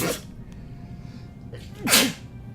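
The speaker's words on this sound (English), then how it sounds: "I'm gonna sneeze." A single loud sneeze bursts out near the end, preceded by a sharp inhaled breath, close to the listener over faint room noise.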